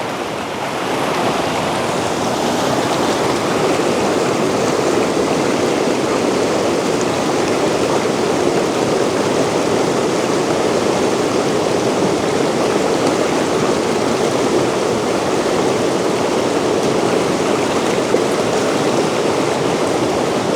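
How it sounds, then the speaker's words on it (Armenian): A mountain river flows past in a constant, loud, even rush of water that holds steady for the whole stretch, with no voices. "Հիմա ես կլռեմ, դուք կլսեք գետի ձայնը։"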